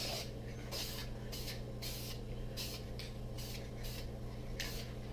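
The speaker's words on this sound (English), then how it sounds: "I'm going to throw some of this Spar Urethane onto these pieces. I'm just going to give it a light misting" Spar urethane sprayed as a light misting onto wood dye pieces, a series of short soft hissing bursts with brief gaps, close and quiet, about ten sprays.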